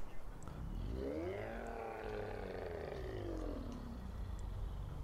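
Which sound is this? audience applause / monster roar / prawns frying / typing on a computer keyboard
monster roar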